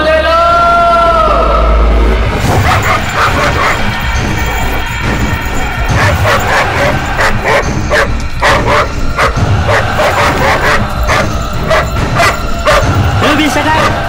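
A dog in a dubbed action film scene barks over and over, loud and insistent, mixed with people talking and the film's background sound.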